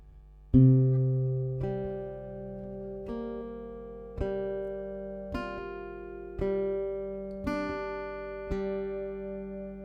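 Slow plucked acoustic guitar notes from a song, one about every second, each ringing out and overlapping the last in a gentle repeating pattern; no voices.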